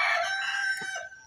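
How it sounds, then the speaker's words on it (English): A rooster in Kakamega crows once, a clear, fairly close cock-a-doodle-doo with a long strained tone that trails off, heard alone without talk. "You can hear the cock."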